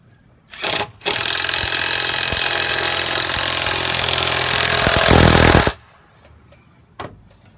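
A power drill whines steadily for several seconds as it drives a number 9 screw into pre-drilled wood on a corner pergola, ending with a strained grinding burst before stopping; brief clicks and taps follow.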